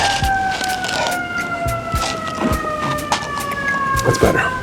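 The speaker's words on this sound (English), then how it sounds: "is that for us, that fire truck?" A fire truck siren wails steadily in the background of a busy city street, its sustained tones sliding slowly downward as it passes, with people talking over it and scattered traffic noise around.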